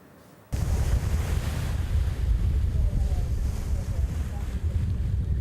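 Open-ocean waves and gusting wind on a ship heading out of Resurrection Bay toward Bear Glacier, Alaska; a steady, loud broadband roar that starts abruptly and continues without a break.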